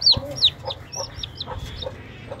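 A hen clucks in short, close, repeated bursts, roughly a dozen sharp calls in quick succession with a louder pair at the start, over faint background noise.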